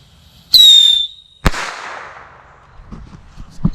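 A bottle bomb firework goes off outdoors with a sharp whistling squeal, then a loud crack whose echo fades, followed by smaller pops.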